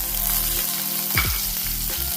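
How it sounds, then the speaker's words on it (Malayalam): Ginger, garlic and green chillies fry with mustard seeds and fenugreek in hot oil for a Kerala spiced buttermilk curry, giving a steady close sizzle with a brief stirring scrape partway through and no talk. "ഇഞ്ചിയും വെളുത്തുള്ളിയും പച്ചമുളകും എല്ലാം വാടി വന്നിട്ടുണ്ട്."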